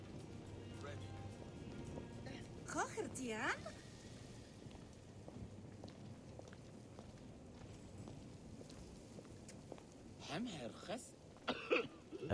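A character in the video game Assassin's Creed Origins coughs in a few short, rough bursts, once near the start and again toward the end, over quiet ambient game sound with light rain-like patter.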